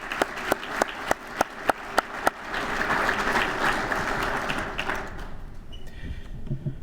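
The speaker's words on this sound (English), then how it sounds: "One more round of applause for all of our awardees" A few sharp, evenly spaced claps from one nearby person swell into full audience applause for the awardees at an annual meeting, then fade out, leaving faint room sounds.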